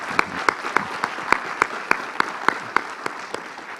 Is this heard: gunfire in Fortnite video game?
no